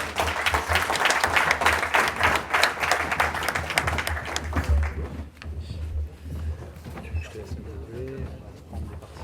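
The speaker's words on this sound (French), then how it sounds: "Je crois qu'on peut les applaudir" Audience applause at a hackathon closing and awards evening in Lyon, dense and loud for about five seconds, then tapering into scattered claps under murmuring voices and room noise.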